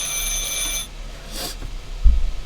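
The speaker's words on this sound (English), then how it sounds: "Answer the phone, I guess." A phone in Martha is Dead gives a brief electronic ring that stops, followed by faint room hum and a soft thump.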